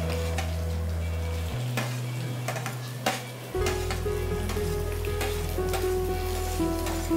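Chopped tomato goes into a hot frying pan, setting off a loud, steady sizzle with scattered clinks of a utensil stirring against the pan and a low kitchen hum underneath.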